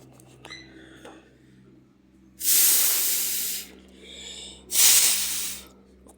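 Two loud bursts of blown air sweep water off a car body after it is rinsed with plain water, each a broad hissing gust lasting about a second, separated by a short pause, close and clear.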